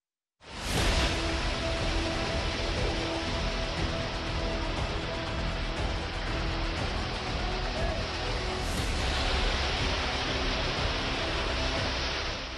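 Heavy rain and floodwater rush along the roads of Tonk, Rajasthan, a dense, steady roar that lasts throughout with no voices.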